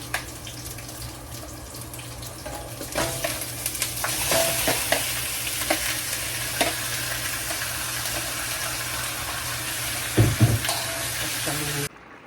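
Pork adobo, fatty spare pieces with meat, sizzling in a pan while a utensil stirs and scrapes through it, a steady close fry with occasional clinks and a brief splash of water near the end.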